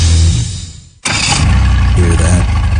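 A boat engine cranks and catches after a short pause, then runs steady and loud under an announcer's voice.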